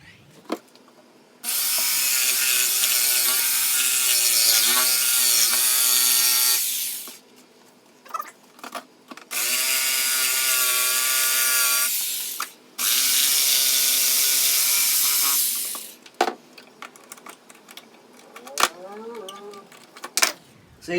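A power saw cuts material during work on a hot rod 1929 Model A pickup, in three long loud passes with brief pauses between them, then some clattering handling noises.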